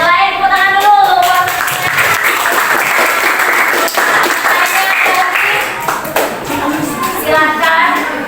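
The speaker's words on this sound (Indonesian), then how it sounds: "Yang lain tepuk tangan dulu." A school class claps their hands together in a classroom, loud close applause mixed with children's voices calling out, the clapping dense and continuing throughout.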